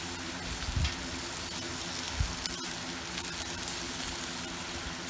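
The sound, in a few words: vegetables frying on a Watchman stove for steak fajitas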